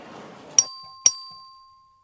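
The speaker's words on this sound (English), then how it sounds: "Clerk, ring the bell." Two clear, bright chimes of the vote bell in the Texas Legislature chamber, struck about half a second apart, each ringing out and fading slowly in an otherwise quiet room.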